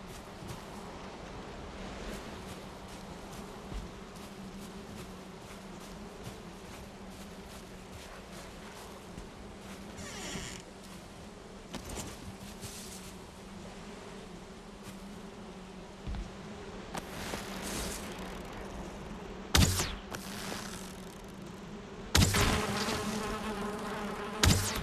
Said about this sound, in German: Oh, hört ihr das? Ich höre da Bienen.